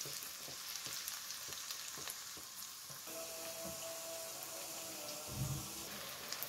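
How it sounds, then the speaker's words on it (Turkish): Red capia peppers fry in oil in a pan, giving a soft continuous sizzle with light clicks and stirring sounds and one low bump near the end. "Aynı yağ kırmızı kapyaları da kızartıyorum."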